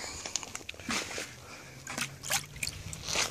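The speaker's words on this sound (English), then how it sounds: "I'm losing a little bit of water, some splashing a little bit" Water sloshing and splashing from a bucket carried on a job site, soft irregular splashes and trickles up close, fairly quiet, with no talk.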